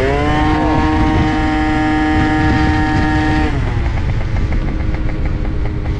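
An Italjet 180 cc scooter engine revs hard with a steady rising whine, then drops into a rougher, lower idle-like pulsing, loud and close throughout with no voices.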